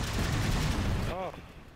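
Gunfire in Halo 4, a dense, continuous fusillade of loud shots and combat noise that drops away abruptly near the end.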